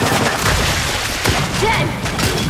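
Heavy gunfire and booming blasts fill a Gears 5 battle, a dense, loud, unbroken barrage with occasional thuds, and voices shout underneath.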